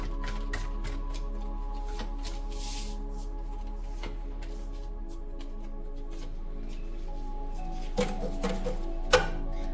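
Tarot cards being shuffled by hand in a steady papery riffle and slide that runs throughout, faint and close, with a couple of sharper card taps near the end and no talking.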